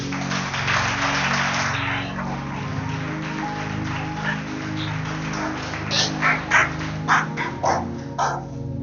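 A church congregation at a French-language worship service acclaims the Lord with loud, sustained cheering, shouting and bursts of clapping, close and full, over a steady musical backdrop.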